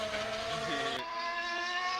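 Race car at the Goodwood festival, a sustained high-revving engine note held steady and fairly close, rising slightly in pitch partway through, with no talk over it.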